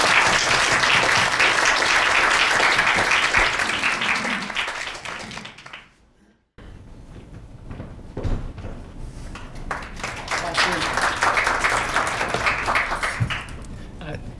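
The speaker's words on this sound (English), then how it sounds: "Please welcome Dr. Emanuel Pastreich with a warm round of applause." A lecture audience gives a sustained round of applause to welcome the lecturer, Dr. Emanuel Pastreich, before a talk on contemporary Seoul; the clapping fades to a brief silence midway, then resumes steadily with some voices mixed in.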